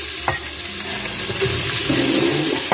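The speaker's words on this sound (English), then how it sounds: "now that it's melted, I'm going in with my onion" Chopped onion hits melted fat in an Instant Pot and sizzles loudly and steadily for a few seconds, with light stirring noises on top and no voices.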